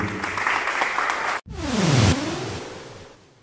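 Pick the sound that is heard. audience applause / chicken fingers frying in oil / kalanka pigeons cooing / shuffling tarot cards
audience applause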